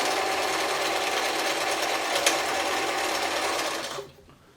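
A German-made Singer 720 sewing machine runs at minimum pedal speed on a zigzag satin stitch, humming and chattering in a steady rapid rhythm, then stops abruptly near the end.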